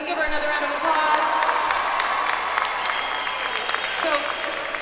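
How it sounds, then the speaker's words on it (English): Audience applause and cheering for a high school marching band drum major at a UIL State competition, a steady wash of clapping with scattered whoops lasting throughout, fairly distant and crowd-wide. "Let's give her another round of applause."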